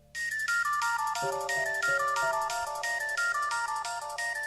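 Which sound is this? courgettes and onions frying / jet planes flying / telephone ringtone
telephone ringtone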